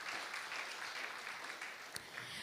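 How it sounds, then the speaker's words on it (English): An audience at a partnership celebration event applauds steadily, dense even clapping filling the room throughout with no voices over it. "So help me to give a round of applause to all of these colleagues that braved this journey."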